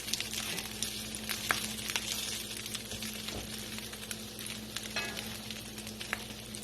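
Soup bean patties fry in hot grease in a pan, giving a steady, close, broadband sizzle with small pops and crackles all the way through, against a faint low hum and with no talking.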